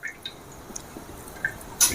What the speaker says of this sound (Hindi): हम हल्का हल्का हाथ से पुश करेंगे और हमारा सारा एक्स्ट्रा पानी जो है निकल जाएगा